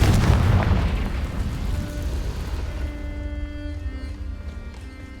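A Confringo spell explodes in Hogwarts Legacy, a loud booming blast at the start that rumbles and slowly fades over a few seconds.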